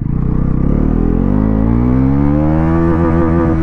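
A 2024 Bajaj Pulsar NS400Z motorcycle accelerates hard in first gear, its loud engine note climbing steadily in pitch right up close, then stuttering briefly near the top of the revs.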